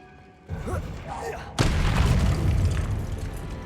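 A Bombarda spell explosion in Hogwarts Legacy, a deep booming blast that breaks over a low rumbling battle ambience and leaves a sustained roar, while a voice speaks beneath it.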